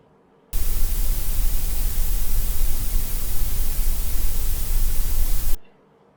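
Steady broadband grey noise from an Eqkit SG-10 noise generator, a loud uniform hiss that switches on abruptly, holds constant for about five seconds, then cuts off alone.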